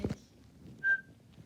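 A single short, clear referee whistle blast rings out during a floor hockey game, preceded by a couple of soft thumps, with quiet room background.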